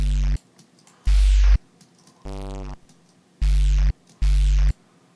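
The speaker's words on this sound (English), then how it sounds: "I might actually saturate this. There's not quite enough distortion." Heavily saturated, distorted glitch hop synth bass plays five loud, buzzy notes of varying length, separated by short silences, with no other sounds.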